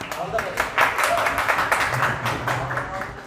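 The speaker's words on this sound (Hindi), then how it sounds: "एक बार ताली से" An audience at an open mic poetry event in Lucknow gives a short, close round of clapping that stays steady throughout.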